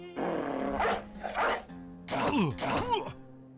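Dog barks from the video game Battle Brothers, several short bursts over a steady musical game background, fairly loud and close with brief gaps between barks.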